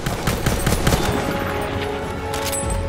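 Gunfire in the Battlefield 1 video game, a dense volley of rapid shots and crackling fire with distant booms, continuous and loud throughout.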